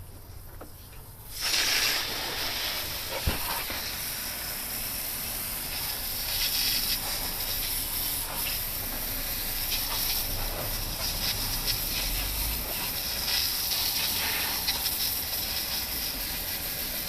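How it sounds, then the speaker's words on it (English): Water spray rinsing degreaser foam off the engine compartment of a 2005 Chevrolet Suburban, a steady loud hiss that starts abruptly and continues without pause. "and we'll rinse it off"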